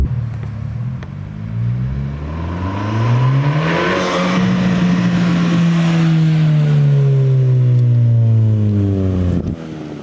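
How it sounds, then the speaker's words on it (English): A Honda S2000 engine with turbo boost revs up loudly and close, its tone climbing and holding high before falling back, with a rising whir of building boost layered over the engine note. "Just rev it. You can hear it building boost."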